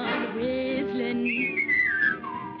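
A melodic whistle glides over the high end of a steady musical backing, drawing out a rising and falling tune near the end.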